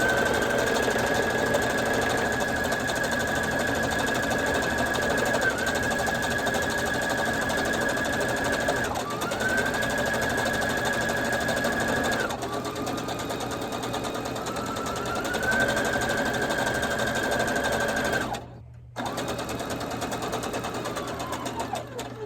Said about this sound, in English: I need to sew a seam up the side.